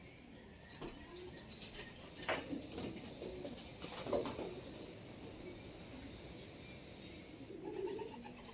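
Pigeons coo softly in a steady chorus, with occasional bursts of wing flapping and faint chirps against a low outdoor background.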